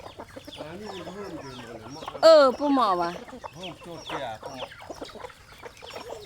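Chickens cluck and squawk while being fed, several close calls with one loud sharp squawk midway, heard under a child's and an adult's chatter.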